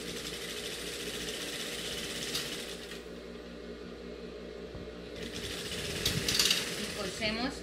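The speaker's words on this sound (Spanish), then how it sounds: "Entonces voy a coser por el derecho para poder ver hasta dónde debo llegar." A domestic sewing machine stitches a gingham check skirt with ruffles, sewing a seam along the button placket, its steady close mechanical whir and needle rattle running continuously with slight variations in pace.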